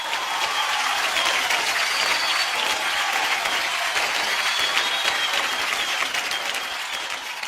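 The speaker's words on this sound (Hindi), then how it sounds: "ये तालियां उसके लिए नहीं बज रही," Studio audience applause on a televised singing competition show, steady dense clapping that fills the whole stretch at an even level before easing slightly at the end.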